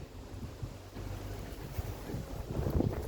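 Strong wind gusts across the microphone outdoors near a house after the workday, a steady rough roar that swells toward the end, with no talking.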